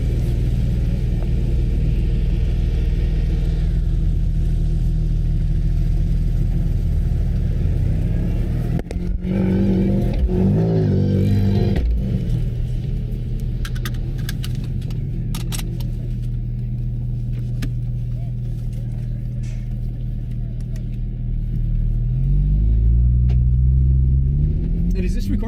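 Porsche 991 4S engine rumbling and revving through a lap at Pacific Raceways, steady loud drone with rising pitch sweeps near the end, heard from inside the car under coaching talk.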